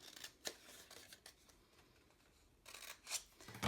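Scissors snip through paper for a homemade Valentine box, with a handful of quiet, close cuts spaced irregularly and brief pauses between them, no talking.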